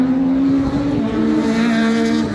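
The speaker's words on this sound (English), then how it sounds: "Quite noisy, they're very loud cars, although they're small, like 1600," A small 1600 cc rallycross race car passes close and loud, its engine holding a steady high drone at a motor racing circuit.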